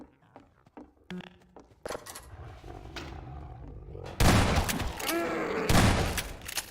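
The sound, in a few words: zombie roaring in video game Half-Life 2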